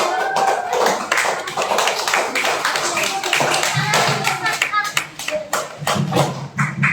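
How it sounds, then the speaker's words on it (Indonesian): A crowd claps continuously for several seconds after a presentation, dense and fairly loud, with voices mixed in underneath. "Tepuk tangan buat semuanya."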